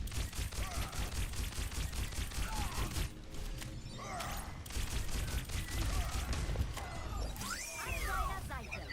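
Rapid, dense gunfire from the Overwatch Vendetta playtest, a loud continuous barrage of shots with brief pauses, mixed with game effects.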